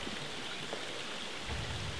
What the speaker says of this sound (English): Look at those multiple little waterfalls coming down.